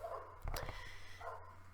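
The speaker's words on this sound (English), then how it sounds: "Some dog is really barking out there." A dog barks outside, a few muffled, distant woofs heard through a wall, short and separated by a pause.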